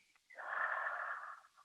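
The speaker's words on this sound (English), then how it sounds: "Breathe in, nice deep breath, and breathe out." One long, deep breath out during a family yoga session, a steady breathy exhale of about a second and a quarter, close and soft, alone without talk.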